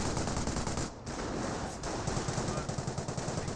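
A .30 cal machine gun fires in a World War II strategy game, laying suppressing fire on a Panzer Grenadier. The bursts run loud and dense for the whole stretch, with one short gap near the start.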